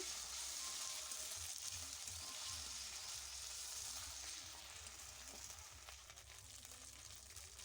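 Ginger and cumin paste fries in a pan with a steady, bright sizzle that holds throughout and eases slightly toward the end, with no talking.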